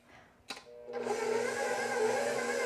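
Stand mixer kneading pizza dough on speed 2: a brief clunk as it starts, then a steady motor whir that settles into a continuous, fairly loud drone.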